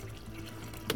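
Water runs from a tap into a container at home, a soft continuous trickle and splash with a brief sharper splash near the end.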